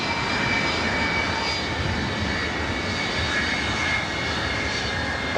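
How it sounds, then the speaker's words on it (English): A Northern Air Cargo Boeing 767 taking off in the distance at LAX, bound for Honolulu: a continuous, steady roar of jet engines with a broad rumble that holds evenly throughout. "Northern Air Cargo 767 taking off there in the distance"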